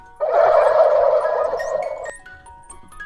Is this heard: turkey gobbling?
yes